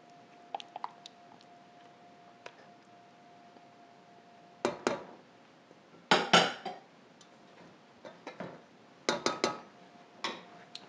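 Banana mixture is added into a mixing bowl for a banana ripple cake, giving scattered clinks and scrapes of utensil against bowl with short louder knocks in bursts, over a faint steady hum.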